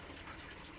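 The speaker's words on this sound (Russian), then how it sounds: "Постоянно льется горячая вода, поэтому температура она всегда одинаковая." Hot water pours steadily into a private onsen hot-spring bath in a Shizuoka hotel room in Japan, a soft, continuous gushing hiss without pauses, quiet and alone, with no talking.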